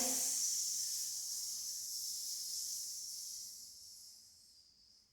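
A long, steady breathy hiss of an exhale during a yoga exercise, loud at first and slowly fading away over several seconds, with no voice.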